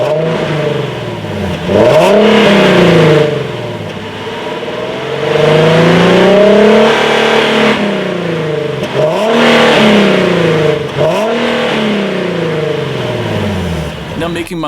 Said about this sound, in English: there was of course the dual exhaust setup finished in silver, and the sound on the Z was definitely well done